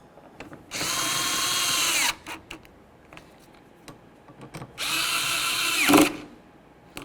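A power drill driving the bolts of a rear exterior door handle on a 1999-2007 Chevy Silverado, two whirring bursts about one and a half seconds each with ratcheting clicks between, close and loud, the second ending in a pitch drop.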